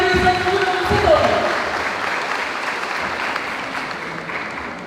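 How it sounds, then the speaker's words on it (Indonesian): An audience claps for SMA Negeri 1 Gunungsitoli students at their 2024 school farewell ceremony, a dense burst of applause that gradually fades, with some crowd murmur underneath. "Berikan tepuk tangan untuk SMA Negeri 1 Gunung Sitoli."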